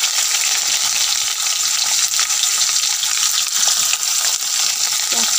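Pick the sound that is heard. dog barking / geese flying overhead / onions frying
onions frying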